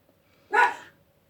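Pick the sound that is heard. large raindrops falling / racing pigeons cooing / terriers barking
terriers barking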